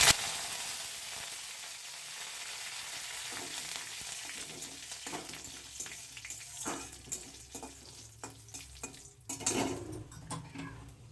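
Curry leaves and nigella seeds sizzle in hot oil with a crackling hiss, while utensils clink and scrape against the pan, and a louder spatter comes near the end.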